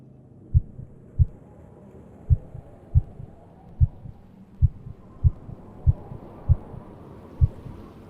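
A hibernating chipmunk's heartbeat comes through as soft, low thumps at a slow, fairly even pace, about ten of them over a quiet hum.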